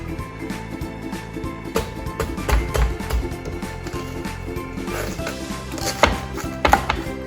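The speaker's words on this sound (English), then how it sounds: "let's start first by chopping the watermelon into two" Repeated sharp knife strikes on a board as a watermelon is chopped in half, irregular chopping thuds with crunchy cuts, close and fairly loud throughout.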